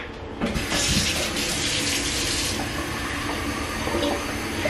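Tap water runs steadily into a water bottle, a continuous, fairly loud hiss and gurgle of filling that lasts throughout with no talking.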